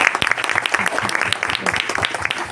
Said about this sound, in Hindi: जोरदार ताली बजाए दर्शक के लिए